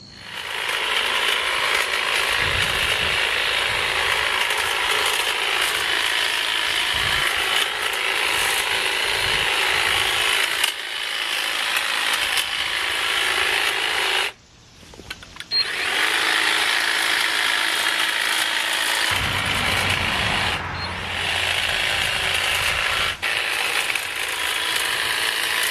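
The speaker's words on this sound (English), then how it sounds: "So trimming that hedge took all of about 4 or 5 minutes." A Kobalt 40V battery-powered hedge trimmer cuts through a hedge with a steady, loud mechanical buzz that runs almost unbroken, dropping out briefly once midway before resuming.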